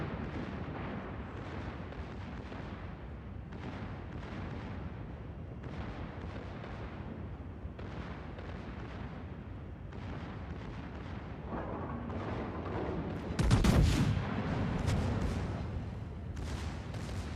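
Heavy naval gunfire from a German battleship's secondary batteries in World of Warships, a dense rumbling barrage of repeated booms under game ambience, with a louder burst near the end.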